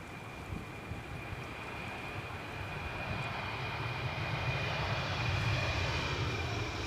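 An Air France HOP Embraer 190 jet departs Edinburgh Airport on a windy day, its engine roar building steadily louder and broader over the seconds, with no voices.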